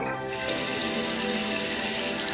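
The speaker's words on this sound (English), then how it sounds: "You turn on cold water." Cold water runs steadily from a tap into a sink to rinse a hair brush, a continuous close splashing gush with no talking.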